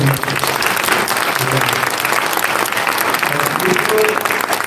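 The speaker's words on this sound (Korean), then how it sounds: "우리 성가대에게도 박수를 쳐드리고 우리 회장님께 한번 박수 쳐드립니다." A church congregation claps for the choir and a leader during a March 1st commemorative service, steady mid-level applause lasting several seconds, with a voice faintly audible under it.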